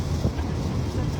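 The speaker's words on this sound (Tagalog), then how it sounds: "Malakas yung hangin dito." Brief burst of strong wind at a cycling time trial in Pampanga rumbling and thudding against the microphone, a low blustery roar without clear speech.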